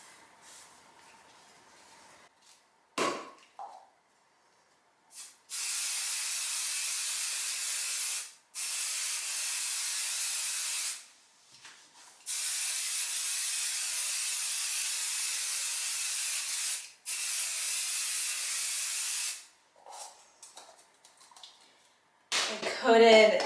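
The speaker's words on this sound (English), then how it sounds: "I'm going to spray first the backing to the batting" Spray adhesive hisses from an aerosol can onto quilt backing and batting in several long, steady bursts with short pauses between them, ending in brief handling rustle. Heard close and loud.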